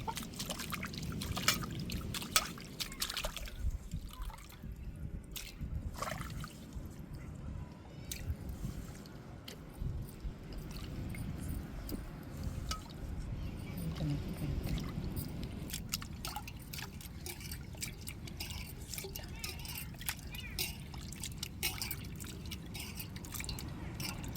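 Dried anchovies being rinsed by hand in hot water, with continuous soft sloshing, squishing and trickling close up at a low, steady level.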